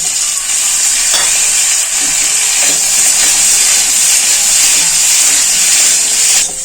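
A large tomato dropped into a hot pan for a vegetarian fenugreek-fennel curry frying with a steady, loud hiss and sizzle, with faint stirring clinks over the constant crackle.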